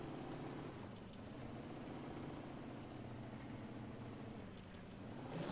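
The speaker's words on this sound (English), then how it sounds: "It's bogging down a little bit in the mud." A Suburban truck's engine in the game Spin Tires drones low and bogged down as it churns through mud, a steady heavy rumble with no talk over it.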